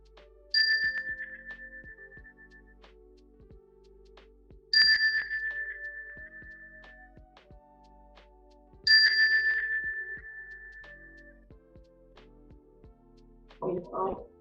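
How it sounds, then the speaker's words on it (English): A meditation chime bell struck three times at even intervals during a yoga and meditation session, each clear ring fading slowly into near-silence, followed by a brief burst of voice at the end. "I'm just going to bring that chime again to bring you back."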